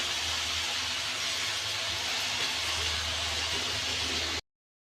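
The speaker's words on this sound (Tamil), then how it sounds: "கீரை போட்டாச்சு. போட்டு நல்லா கிளறி விடுங்க." Spinach greens stirred and sautéed in a pan with softened onions for a Tamil keerai poriyal, giving a steady, close sizzling hiss that holds evenly for about four seconds before cutting to silence.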